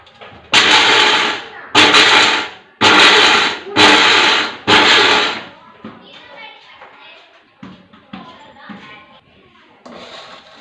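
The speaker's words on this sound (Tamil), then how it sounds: "வேர்க்கடலை அரைக்கும்போது கேப் விட்டு பல்ஸ் கொடுத்து அரைச்சிக்கோங்க" A kitchen mixer grinder pulses on peanuts in five loud, evenly spaced bursts of about a second each, followed by quieter clattering and scraping.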